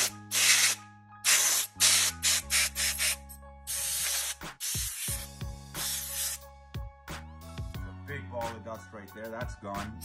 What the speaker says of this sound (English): we're gonna blow out this dust with our compressed air can.